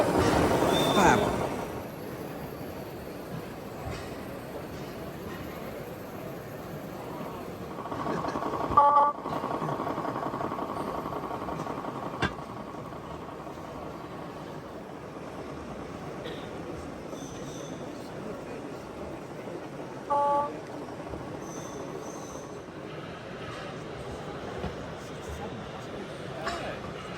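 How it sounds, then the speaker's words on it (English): An RC-controlled garden railway locomotive built by someone plays its onboard sound system at an outdoor model railway show, with faint rumbling, squealing and whistle-like tones under crowd chatter and talk. "It's RC controlled, it's got sound, as you can hear."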